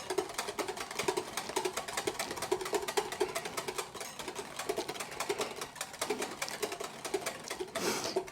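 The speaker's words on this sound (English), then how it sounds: "once you have the emulsion formed, you don't have to whisk so vigorously" Rapid, even clicking and tapping of a whisk beating oil into a mayonnaise emulsion in a bowl, a close, busy rhythm sustained throughout without talk.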